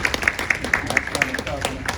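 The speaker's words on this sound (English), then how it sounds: "A nice round of applause for" Audience at a classical Sunday concert at Gary Public Library giving a brief round of applause, scattered claps rising under a voice speaking.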